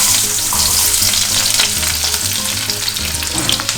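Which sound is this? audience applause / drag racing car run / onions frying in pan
onions frying in pan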